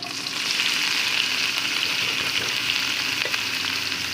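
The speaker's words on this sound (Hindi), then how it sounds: "प्याज को हम इसके अंदर फ्राई करेंगे 2 से 3 मिनट लगाकर" Onions frying in a pan of oil for chana dal with karela, giving an even, dense sizzle that holds steady and close throughout, with no voices.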